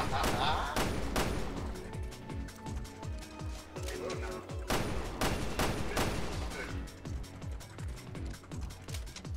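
Rapid bursts of video game gunfire with sustained volleys and sharp impacts, dense and loud throughout under a layer of game music.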